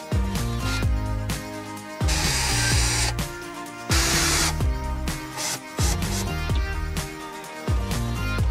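A power screwdriver drives the screws of a MaxxFan Deluxe roof vent fan into a Fiat Ducato campervan roof, in several loud whirring bursts that rise in pitch as each screw seats, separated by short pauses.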